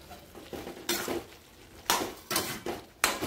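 Fried potatoes and cauliflower tipped into a pan and stirred, giving several scraping and clattering strokes of a utensil against the metal at an uneven pace, with a faint sizzle underneath and nobody talking.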